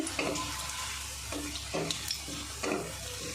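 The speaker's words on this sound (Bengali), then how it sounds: "দেখুন কত সুন্দর ভাজা হচ্ছে" Soft frying sizzle of papad rolls in oil with a few brief stirring scrapes, fairly quiet and steady, no voices.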